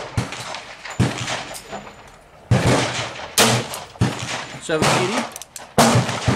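Several sharp .38 Special revolver shots from a Smith & Wesson 686 firing 213-grain handloads, spaced a second or two apart, loud and close, with a voice speaking between them.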